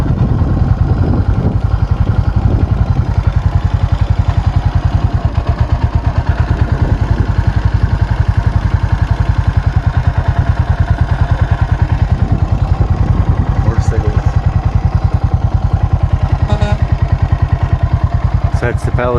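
Several motorcycles pass along a road near the Palisades cliffs above the Hudson River, their engines a steady loud drone with mechanical clatter throughout, no quiet gaps between them.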